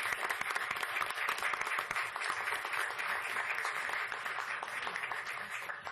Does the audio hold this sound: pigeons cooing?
no